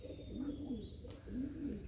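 Pigeons cooing at a racing pigeon loft, two soft rolling coos close by with faint chirps in the background and no talk.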